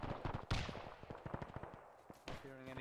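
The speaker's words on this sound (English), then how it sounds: "there's so much machine gun fire on the road just position" Machine gun fire in a Band of Brothers milsim video game set around Carentan, rapid bursts of rattling shots, moderately quiet, with a sharp loud report near the start and tonal game sounds at the end.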